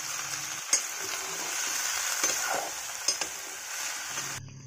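Cowpea (barbatti) vegetable sizzles as it is stirred in an uncovered pan, with steady frying hiss and several sharp utensil clacks against the pan, close and without talk.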